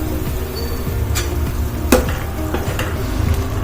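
A spoonful of chili powder being stirred into boiling bus-stand sambar with onions, with a spoon scraping and tapping the pot at an irregular pace over a bubbling simmer, close and without talk.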